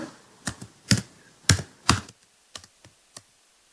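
Computer keyboard keys typed in short bursts while entering CSS web code, about nine distinct clicks with a few heavier strokes, close and clear with no talk.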